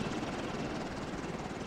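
A helicopter in the Ghost Recon video game gives off a steady, even rotor drone with a rapid chopping pulse, heard alone at a moderate level throughout.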